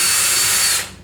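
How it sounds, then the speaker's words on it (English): A power drill whines loudly and steadily as its bit reams rivet holes in a metal deer feeder, then spins down toward the end. "we're gonna take the drill bit, we're gonna ream these holes out a tiny bit."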